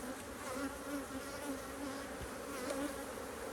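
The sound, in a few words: honey bees buzzing around hive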